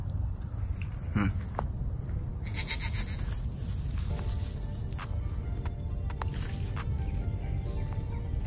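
Goats bleat a few times in short, fairly faint calls over steady background noise outdoors.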